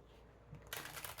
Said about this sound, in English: Boy, these cards don't seem to want to shuffle.